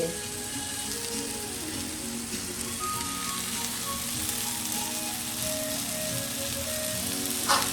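Oil sizzles steadily in a pan while Cambodian food fries with tamarind paste and prahok, a dense crackling hiss held at an even level throughout, with a brief louder flare near the end and no talk.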